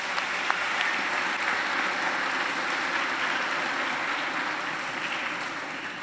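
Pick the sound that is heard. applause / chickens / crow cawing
applause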